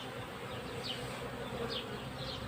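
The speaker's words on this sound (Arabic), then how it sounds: "احنا شايفين النحل دلوقتي بيجي على الخلية اهو" Honeybees arriving at a hive outdoors make a soft, steady buzzing drone, with a few individual bees zipping closely past now and then; no talking.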